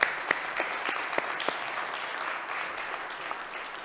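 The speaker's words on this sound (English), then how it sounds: "I'd love us to give our musicians another round of applause." A church congregation applauds its musicians in a warm burst of clapping that peaks at the start and then settles into a steady, moderately distant patter, with no speech over it.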